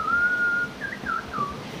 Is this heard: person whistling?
yes